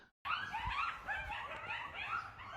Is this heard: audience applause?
no